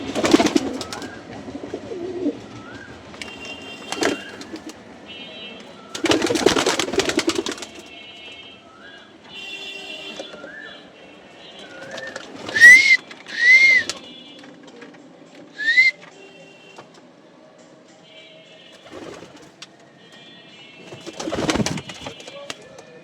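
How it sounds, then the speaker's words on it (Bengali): Pigeons in a home loft during the morning feeding, giving occasional soft coos and whistly calls amid scattered bursts of fluttering, pecking and shuffling, with quiet gaps between; no voices. "আমার কবুতরগুলো কিভাবে খাচ্ছে,"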